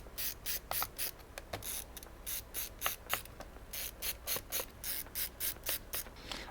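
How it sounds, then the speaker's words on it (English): A screwdriver backs screws out of an MSI Raider RGB 8RE laptop, giving a steady series of quiet, rhythmic ratcheting clicks and scrapes, close by and repeated many times with no one talking. "So there's a total of 1, 2, 3, 4, 5, 6 screws that need to come out."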